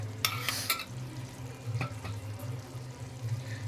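Soyabean chaap curry being stirred in a pan, with a few scraping clacks of the spoon near the start and a steady low simmering bubble underneath throughout.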